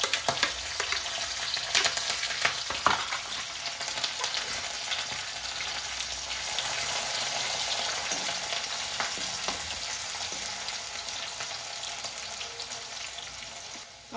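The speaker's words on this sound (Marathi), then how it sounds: "टोमॅटो, कढीपत्ता, कांदा आणि कढीपत्ता घालूया।" Cumin, mustard seeds, tomato, curry leaves and onion fry in hot oil for a bottle gourd dish, a dense continuous sizzle with scattered pops and occasional stirring scrapes, close and steady throughout.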